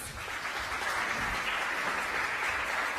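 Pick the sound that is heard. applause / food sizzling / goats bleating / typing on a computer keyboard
applause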